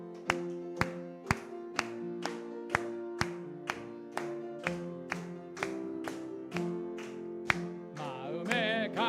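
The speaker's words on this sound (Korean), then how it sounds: "박수 올리면서 찬송합니다" A church congregation claps along to a hymn during a Wednesday worship service, about sixteen sharp even claps in a steady rhythm over sustained organ or keyboard chords, with a brief swirling flourish at the end.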